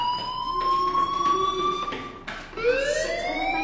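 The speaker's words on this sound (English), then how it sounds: "Hey, do you hear that fire alarm?" A school fire alarm from the video game Life is Strange sounds a loud, steady electronic siren tone that dips briefly and then starts again.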